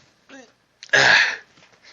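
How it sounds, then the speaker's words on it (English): A single loud, sharp sneeze bursts out close by, preceded by a brief faint voiced sound and followed by quiet. "This is a really bad time for a sneeze."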